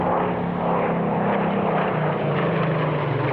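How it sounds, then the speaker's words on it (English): A Spitfire 19 powered by a Rolls-Royce Griffon engine flies over an airshow, its propeller engine drone steady and fairly loud throughout, with no voices over it. "The Spitfire 19 was one of the later Mark Spitfires, powered by the Rolls-Royce Griffon engine."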